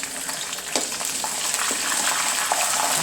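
Kanthari chillies frying in hot oil for a gooseberry pickle, a loud continuous sizzle and crackle with faint stirring pops running steadily throughout.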